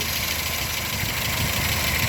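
A car engine idles steadily up close with a suspected water pump fault, giving a continuous mid-pitched hum with faint rattling vibration and no talk over it.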